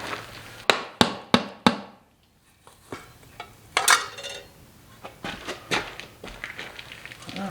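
Four sharp metallic hammer blows ring out in quick succession on a junkyard truck rear end destined for a 1970 C10, followed by scattered lighter knocks and clanks.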